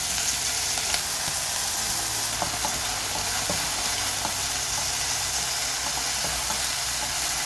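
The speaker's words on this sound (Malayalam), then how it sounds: "അത് കഴിഞ്ഞ് ഞാൻ അരിഞ്ഞ് വെച്ച് ചുവന്നുള്ളി ഇട്ട് കൊടുക്കുകയാണ്. പച്ചമുളക് കീറിയത് ഇടുന്നു." Chopped shallots and slit green chillies sizzle and fry in hot oil in a pan, a steady, loud, dense crackling hiss that fills the whole stretch with no talking.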